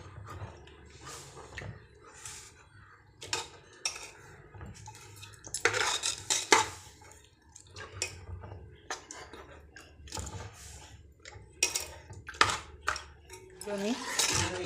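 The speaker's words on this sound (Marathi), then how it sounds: "मी खाली चिकटलेला सगळा काढून घेतला चीक" Spoon scraping settled wheat starch from the bottom of a metal vessel, repeated uneven scrapes and clinks in bursts, close but fairly quiet, with some liquid sloshing.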